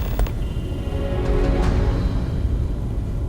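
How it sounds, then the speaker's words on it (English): Wrench work tightening equipment in the Starfield video game: metallic creaks and a few faint ratchety clicks over a steady, dense mechanical background hum, with no voices. "Grab a couple of wrenches and let's tighten this equipment down."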